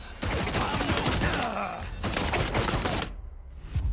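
Turret gunfire in Resident Evil 4 Remake rattles out as a dense, loud barrage of rapid shots. It holds for about three seconds, then cuts off abruptly into near quiet.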